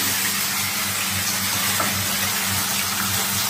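Water runs steadily into a cooking pot to rinse it, a continuous near hiss and splash with no pauses.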